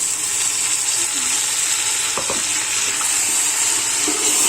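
Tomatoes with ginger-garlic paste hit a pan of hot oil and browned onions for biryani, giving a loud, continuous close sizzle with a few brief stirring clinks, no talk.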